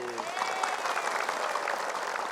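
Studio audience of women clapping during a televised religious talk show, a steady wash of applause filling the short span at moderate level, with a brief voice tone near the start.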